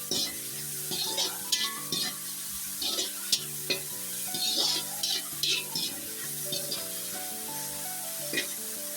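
Vegetables with salt stir-fry for chicken fried rice, a steady sizzle in the pan broken by repeated scraping strokes of a spatula, with some clinking metal and a background music bed.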